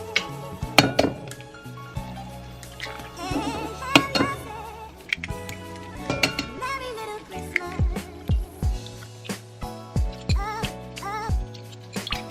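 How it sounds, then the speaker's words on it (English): Three eggs cracked into a bowl, a busy run of close clinks and knocks against the rim with ringing overtones, repeated taps and cracks spread across the whole stretch. "take 3 eggs, crack them in a bowl"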